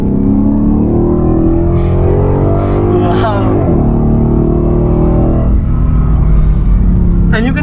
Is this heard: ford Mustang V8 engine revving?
yes